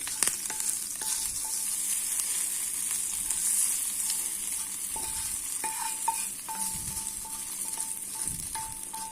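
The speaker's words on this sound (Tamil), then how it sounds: "இப்போ சட்னியில் அந்த தாளிப்பு ஆட் பண்ணிக்கலாம்." Tempering for chana dal chutney sizzles after being poured in, a continuous close frying hiss with occasional spoon or pan clinks and light bubbling throughout.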